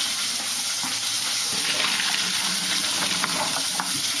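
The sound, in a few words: draining boiled water from a pot of asparagus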